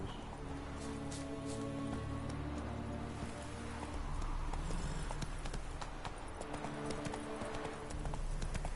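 Roach the horse in The Witcher 3 galloping, a steady rapid clip-clop of hooves that grows louder and busier midway, set against a soft hiss like rain, with no talking.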